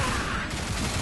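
Dense gunfire in the video game Bulletstorm, a loud unbroken burst of rapid shots and booms filling the whole short moment.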